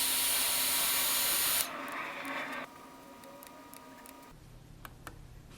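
A hair dryer runs loud and steady, blowing hot air at a temperature sensor for a home-automation circuit, then cuts off, and its noise drops away to faint ticking and hum.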